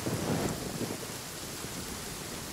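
Rain in the game Genshin Impact falls as a steady broadband hiss with a low rumbling wash, heaviest at the start and then settling to an even patter.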